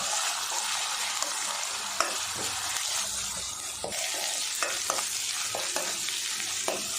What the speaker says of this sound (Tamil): இஞ்சி பூண்டு விழுதோட பச்சை வாசம் போகிற அளவுக்கு நல்லா வதக்கி விடுங்க